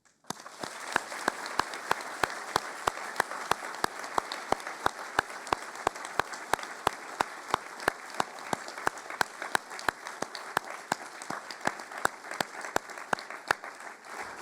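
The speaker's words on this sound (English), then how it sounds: "Please join me in a round of applause for all our speakers, past and present" Sustained audience applause fills a lecture hall at the close of an annual lecture series, a dense steady wash of many hands clapping with sharp claps on top, loud and continuous throughout with no talking.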